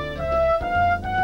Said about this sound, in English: Angela's trumpet sounds like this